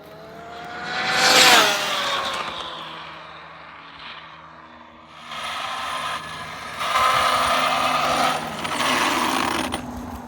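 An Arrma Infraction dual-motor RC car at full throttle gives a loud, rising electric whine that peaks sharply as it passes close by, then drops back to a steadier, fainter buzzing run in the distance.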